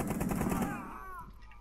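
Rapid automatic gunfire bursts out loudly in Rainbow Six Siege, a fast rattling string of shots that cuts off and trails into a fading echo.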